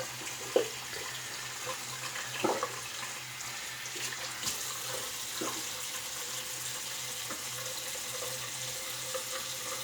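Tap water runs steadily to rinse a razor blade, a soft, even splashing hiss with a few faint knocks and clinks along the way.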